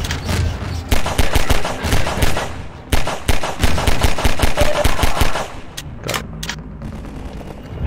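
Enemy automatic gunfire in the video game Half-Life 2: Episode, loud sustained bursts of rapid shots close by, with brief gaps and scattered single cracks toward the end.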